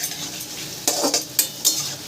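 Gentle sizzle of bottle gourd frying in a pan, broken by several spatula scrapes and clinks against the pan at irregular intervals.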